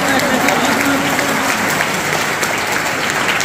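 Audience applause at an Urdu lecture gathering, a steady, dense wash of clapping throughout, with a voice briefly heard early on.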